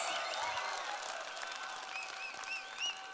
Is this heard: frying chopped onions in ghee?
no